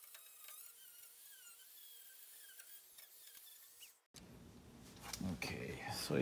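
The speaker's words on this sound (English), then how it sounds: "I have my trusty Dremel, and we're going to just clean up all of the dust and goo" A Dremel rotary tool whines in short, thin bursts while cleaning dust and grime off a vintage gas stove valve, then cuts off abruptly. A louder, scraping handling noise follows.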